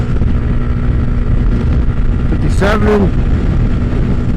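A Honda Grom motorcycle engine droning steadily at full throttle near top speed, loud and constant with wind noise, while a rider speaks briefly over it.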